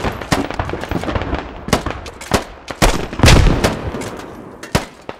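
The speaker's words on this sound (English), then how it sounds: "I can hear them shooting" Enemy gunfire in modded Squad, sharp loud shots cracking in irregular bursts and single reports, some close and heavy, others trailing off, with no talking.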